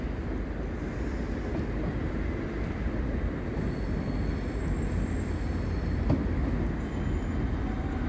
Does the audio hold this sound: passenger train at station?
yes